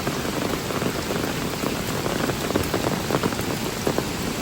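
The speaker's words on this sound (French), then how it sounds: "Il pleut" Steady rain patters densely on a surface, a constant close hiss with scattered louder drops and no voices.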